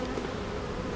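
Honeybees buzzing inside a hive box with about three frames of bees, a dense, close, continuous droning hum filling the whole moment.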